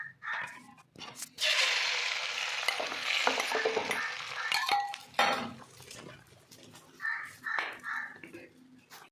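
Bread frying in a pan in a salted, chilli-seasoned egg mixture, a steady sizzle with scraping and clinks of a utensil against the pan, fading toward the end as a voice speaks.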